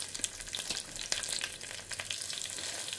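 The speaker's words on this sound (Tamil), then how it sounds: "இப்போ நம்ம கடுகு வெந்தயத்தை அதில் போட்டுக்கலாம், பொரியட்டும்." Mustard seeds, fenugreek and chillies sizzle and crackle in hot oil in a home kitchen, with sharp scattered pops over a steady fry, close and fairly quiet, with no voices.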